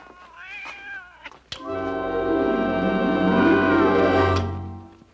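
A cat gives one long, loud, drawn-out meow lasting a few seconds, rising and then fading, preceded by a shorter, quieter mew and faint background sounds.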